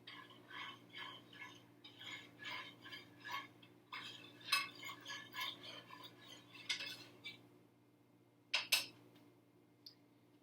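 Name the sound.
stirring apple juice in a mug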